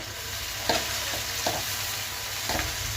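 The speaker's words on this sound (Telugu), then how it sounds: "ఇప్పుడు టమాటా ముక్కలు వేసేద్దాం. టమాటాలు కూడా సాఫ్ట్గా మగ్గాలి." Tomato pieces sizzling and frying in a pan for a prawn gravy curry, a steady close crackle with a few soft scrapes of stirring.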